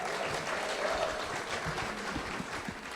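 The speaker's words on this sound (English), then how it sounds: "a round of applause" A crowd at an awards ceremony applauds steadily, a dense wash of clapping hands that holds at an even level throughout.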